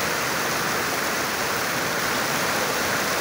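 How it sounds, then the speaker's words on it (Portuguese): Heavy rain pours down in Milagres, Ceará, a dense, loud, steady hiss of water falling hard, constant throughout with no voices. "barulho da chuva aí, pessoal."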